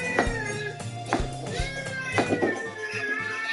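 A house cat meows repeatedly and close, several distinct drawn-out calls spaced unevenly, with faint tapping and room noise between them.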